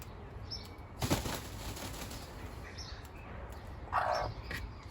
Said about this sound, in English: The classic broody squeal.